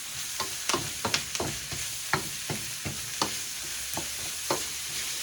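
Celery and mixed vegetables stir-fry in hot oil for bami goreng, a steady sizzle punctuated by repeated scraping clacks of the utensil against the pan, close and with no talking.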